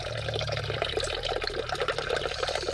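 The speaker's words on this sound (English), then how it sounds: "Got it draining again, and as you can see, I put water in there." Water draining out of a Nissan 350Z cooling system during a coolant flush, a steady close splashing and trickling flow that runs on without pause, with no voices.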